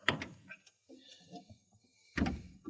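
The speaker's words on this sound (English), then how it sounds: "Let's open up the old back door." The original back door of a 1955 Oldsmobile gives a faint mechanical click and latch sound, then a firmer thunk near the end. Quiet and close, with no talk over it.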